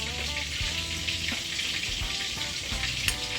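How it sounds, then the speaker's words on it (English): Pieces of chicken back fry in a pan for a Jamaican chicken and pumpkin soup, giving a constant close sizzle and crackle with occasional stirring bumps and clinks. "I am over here frying my chicken back on the other side over here."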